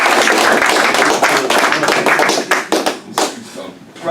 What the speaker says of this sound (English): can we have a massive round of applause for Charles?